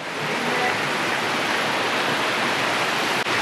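A stream of water running through the middle of a village in Erzincan, heard as a steady, full rushing wash with no pauses, close and loud throughout.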